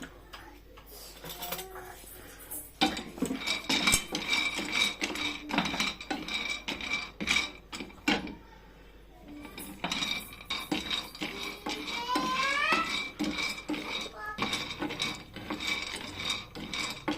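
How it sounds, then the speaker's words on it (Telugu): Almonds dry-roasting in a pan on a stove on low heat, tossed so the nuts rattle and tick in dense rasping bursts against the metal, with a short lull midway. "మనం స్టవ్ పైన ప్యాన్ పెట్టుకొని సిమ్లో బాదం పప్పులు వేయించుకోవాలి."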